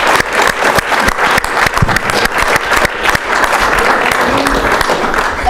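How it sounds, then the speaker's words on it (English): A student government meeting audience applauds loudly and steadily, a dense crowd of claps running from start to finish with a few individual sharp claps standing out. "So please give her and our team a round of applause"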